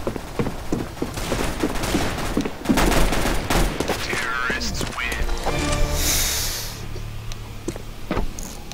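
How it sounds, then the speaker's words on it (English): Shotgun blasts and gunfire in the game Counter-Strike: Global Offensive, a string of sharp reports mixed with other weapon sounds and clatter while a player talks over them. "Why do you have like the stupid shotgun?"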